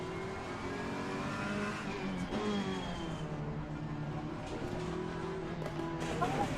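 Race car engines in Assetto Corsa Competizione at the Barcelona circuit roar on without a break, rising and falling through gear changes with some tire squeal, loud and steady for several seconds.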